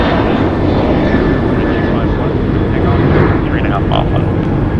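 Boeing 737-900ER airliner on approach to LAX, a steady, loud jet engine roar with a broad rushing tone that stays constant throughout, while someone talks over it.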